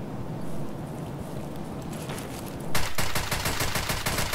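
Gunfire in the video game Escape From Tarkov: a dense, loud burst of rapid automatic shots erupts after a stretch of quieter ambient noise, with sharp repeated cracks continuing to the end.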